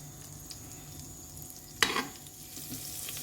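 Butter melts and sizzles in hot oil in a pot, a steady soft frying hiss with a brief louder crackle partway through.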